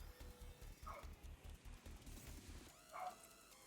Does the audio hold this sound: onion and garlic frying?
no